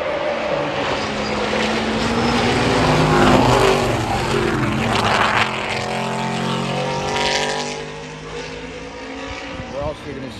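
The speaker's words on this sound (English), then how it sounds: "there are race cars, and they are on the track, and this is practice for the Big Four Sports Car Group" Race cars in a sports car practice session for the Big Four Sports Car Group, climbing a hill on track; loud engine notes rise and sweep past over several seconds while someone talks over them.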